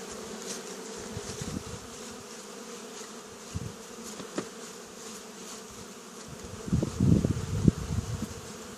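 Honey bees buzz steadily around a hive being smoked by a beekeeper, with soft background hum and a few louder close passes near the end.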